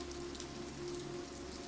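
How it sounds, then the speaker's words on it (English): Steady rain patters softly and continuously on a surface, with a faint low hum underneath and no voices. "The patter of the rain brings you to the soft place between wakefulness and slumber"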